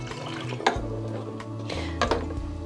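Milk and water poured into a pot for cornmeal porridge make soft, splashing liquid sounds in a few short bursts, set against a steady background hum.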